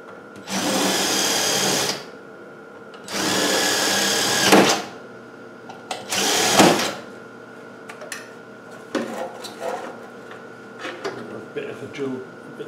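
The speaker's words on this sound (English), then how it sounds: "drill a bit of a rivet still under here." A power drill whirs in three bursts of a couple of seconds each, drilling out a rivet on a car heater blower, followed by lighter clicks and handling noises, close to the microphone.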